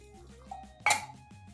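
A spoon stirs dry yeast and two spoonfuls of sugar into warm water, giving soft clinks against the container and one sharper, brighter clink partway through.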